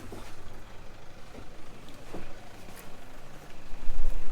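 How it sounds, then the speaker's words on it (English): On a quiet road near the dunes by the Moore River, a car's engine rumble slowly builds from faint and distant to louder as it draws nearer, with a low steady drone and no talking. "I can hear a car coming."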